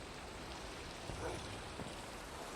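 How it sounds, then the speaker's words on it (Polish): Rain falling in the video game Minecraft, a steady soft hiss of drops filling the whole stretch at low volume with no voices. "zaczął padać deszcz"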